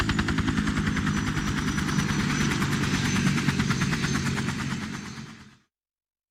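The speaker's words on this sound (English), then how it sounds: "Brad is flying a helicopter and throwing a rocket launcher out of his window" Helicopter in the Resident Evil video game, flown by the character Brad: a steady, loud rotor chop with a dense engine roar, pulsing evenly throughout before cutting off abruptly near the end.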